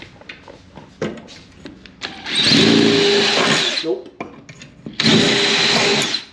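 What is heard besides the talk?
power drill drilling into wall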